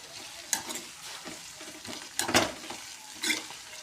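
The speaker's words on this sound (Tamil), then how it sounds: "வெங்காயம் நல்லா வதங்கணும்" Onions sauté with mint in a pan, a steady sizzle broken by several scraping stirs at uneven intervals, close and moderately loud with no voices.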